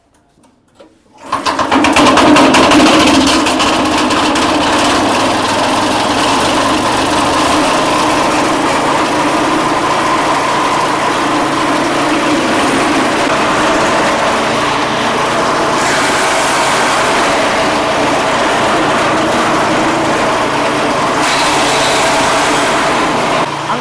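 A small engine-powered shredder machine starts up after a brief silence and runs steadily and loudly at a constant high-pitched buzz, with no one talking over it.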